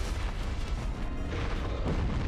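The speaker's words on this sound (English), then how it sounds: "But yeah, just like Stray Demon, he has like that one explosion move that's really annoying" A boss's explosion attack in the Dark Souls video game, a dense continuous rumbling boom with heavy low-end and crackling bursts, loud and sustained across the whole moment.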